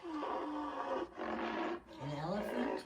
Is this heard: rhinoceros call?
yes